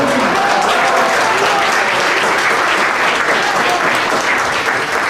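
Loud, sustained applause from a large crowd at a commemorative breakfast, dense and steady throughout without any speech.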